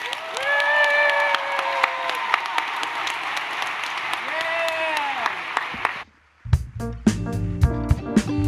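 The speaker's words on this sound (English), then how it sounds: "we could clap for her again" Audience applause at an education awards celebration honoring a longtime Edgewood High School teacher, sustained clapping and cheering across the hall, then cutting off sharply before other sound takes over near the end.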